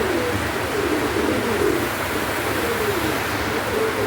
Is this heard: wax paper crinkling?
no